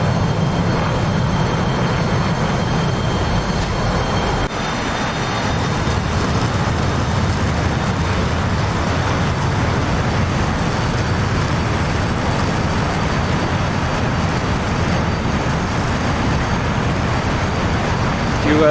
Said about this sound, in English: Listen to those turbofans, guys. Eurojets.